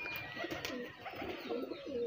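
A held pigeon, one of the colour-dyed birds just caught, coos softly in low repeated throaty murmurs close by, with faint higher bird chirps and background noise throughout.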